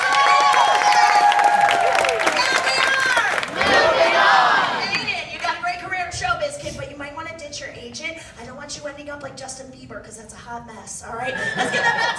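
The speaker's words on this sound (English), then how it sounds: "Big round of applause." A crowd on a film set whoops and cheers loudly for a few seconds. Lively chatter and laughter follow, and a short rise of cheering comes back at the end.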